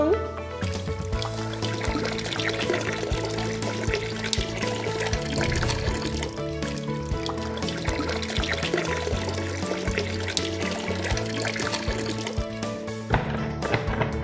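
Water pours and trickles steadily while toys are washed at a pretend spa, a continuous close splashing stream under talking voices.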